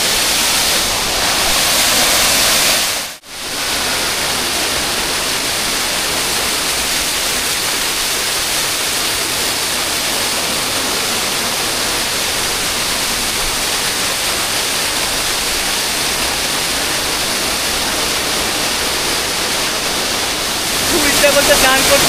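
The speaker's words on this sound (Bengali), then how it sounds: "দেখতে পাচ্ছ জল ওপর থেকে পড়ে যাচ্ছে, ভীষণ স্রোতে জল পড়ছে, প্রচুর জল।" Heavy monsoon flow pouring down Bamni Falls in Purulia, a loud, steady broadband roar of falling water that fills the whole clip, with one brief dropout near the start.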